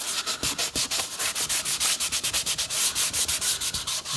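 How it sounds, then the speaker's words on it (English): Rhythmic back-and-forth sanding strokes on the wooden body of a DIY guitar kit, close and steady, each pass a scratchy rasp in quick regular succession with no talk. "And we're going to sand that off."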